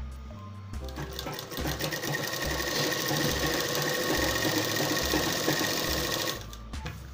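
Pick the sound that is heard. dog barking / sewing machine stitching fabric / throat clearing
sewing machine stitching fabric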